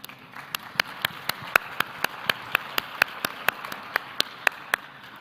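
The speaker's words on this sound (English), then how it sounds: "A round of applause for our panelists." An audience at a food and agriculture forum panel gives a sparse round of clapping for the panelists, individual claps distinct and evenly spaced at moderate distance.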